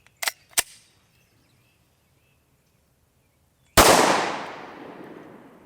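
A Glock 23 fires a 357 SIG round into a ballistics gel block: two sharp clicks, a pause, then one loud, close gunshot with a decaying tail.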